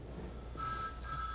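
A telephone rings faintly in the background in two short bursts of a bright electronic trill, with no talk over it.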